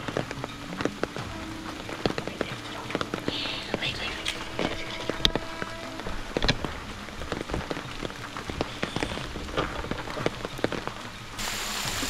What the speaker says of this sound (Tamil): நல்ல மழை கைஸ், நல்ல மழையில் வந்து மாட்டிக்கிட்டோம்.